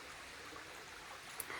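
A shallow creek behind houses, low on water in the dry summer season, gives a faint, steady trickle and rushing wash heard from a distance with no talking.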